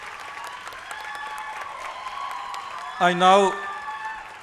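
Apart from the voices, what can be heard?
audience applauding degree recipients at convocation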